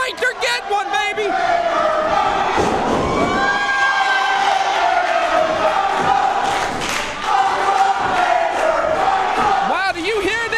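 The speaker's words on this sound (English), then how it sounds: "do you hear this crowd?" Loud wrestling arena crowd roars and cheers continuously during a brawl-filled match at an RWA No Retreat event, with commentators' voices mixed into the din.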